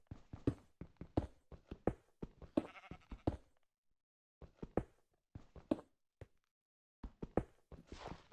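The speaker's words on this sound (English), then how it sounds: "I hear the sheep." Sheep bleat in Minecraft, short repeated cries in bursts separated by brief silences, heard alone and fairly close.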